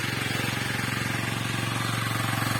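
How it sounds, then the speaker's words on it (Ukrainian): A walk-behind tractor engine runs inside a greenhouse with a steady, rapid diesel-like chugging throb that stays loud and constant throughout, with no pauses. "От такі, така робота мотоблока просто в тепличці."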